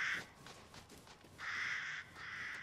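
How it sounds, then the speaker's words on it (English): Crows in the village of Resident Evil Village caw in harsh bursts, three drawn-out calls with shorter ones between, moderately near and alone. "Crows."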